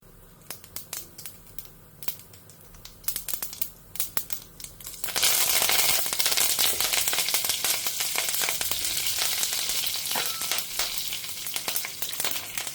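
Mustard seeds hit hot oil for sambar, bursting into a loud, dense sizzle and crackle after a few scattered pops and taps, then holding a steady spattering hiss up close.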